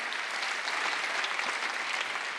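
A church congregation at a Sunday worship service claps together in steady, even applause at moderate volume, filling the short stretch without any speaking over it.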